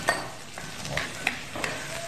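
Chopped onion fries in hot oil with a steady close sizzle, while a utensil stirs and taps the pan a few times over the crackle.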